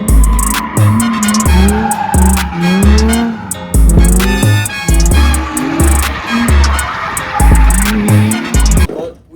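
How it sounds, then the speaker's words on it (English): Drift car sliding with loud, continuous tire squeal and a rising, falling engine that revs in repeated pulses, close and intense for about nine seconds, with no talking. "And it drifts quite well."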